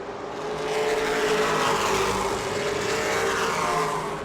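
Race cars at speed on the New Smyrna oval, one car making a big run off turn two, a loud sustained engine roar swelling and holding steady as the pack passes close by.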